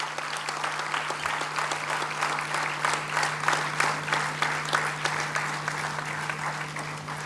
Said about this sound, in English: let's welcome him with a thunderous round of applause